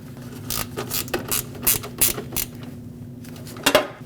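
Mounting bolt on a Lexus IS250 radiator being tightened with a ratchet, giving a run of close, crisp clicking bursts with brief pauses and a final louder pair of clicks.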